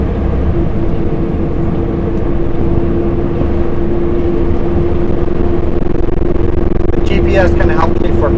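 Truck engine holding a steady droning hum on a steep downhill descent into Ashcroft, loud and continuous from the cab with a sustained low tone, and a faint chattering noise near the end.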